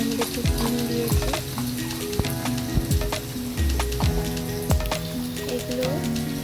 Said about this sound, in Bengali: কড়াইয়ে তেল গরম হতে আমি আদা বাটা দিয়ে তার মধ্যে একটু চিনি দিয়েছি